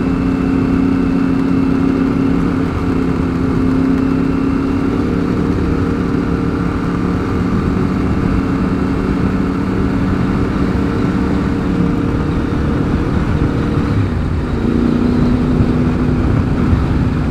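Motorcycle engine running steadily nearby, a loud continuous droning hum with a slight dip in pitch near the end, no talking.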